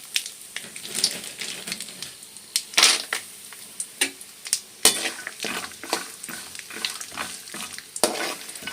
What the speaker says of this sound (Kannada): ಸ್ವಲ್ಪ ಎಣ್ಣೆ ಹಾಕಿ ಸಾಸಿವೆ ಹಾಕಿ ಜೀ ಸ್ವಲ್ಪ ಜೀರಿಗೆ ಹಾಕಿ ಕಡಲೆ ಬೀಜ ಹಾಕಿದ್ದೀನಿ